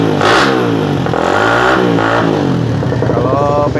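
A Suzuki Satria F150 motorcycle engine revs hard and loud close by, its exhaust roaring as the pitch swoops up and down several times.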